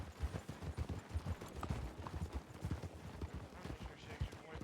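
Horse hooves clip-clopping in a steady, busy rhythm, mid-distance and fairly soft, with a low rumble of background sound behind them.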